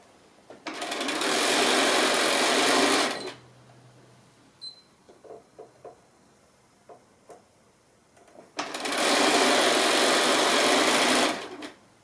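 A sewing machine stitches a quilt seam in two loud, steady bursts of fast whirring, with soft fabric handling and small clicks in the pause between them.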